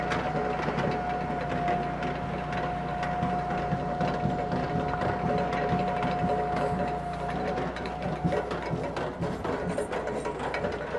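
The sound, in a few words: firewood processor splitter splitting wood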